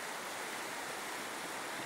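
River water flows among trees as a continuous, even rushing hiss, steady and fairly soft, with no voices.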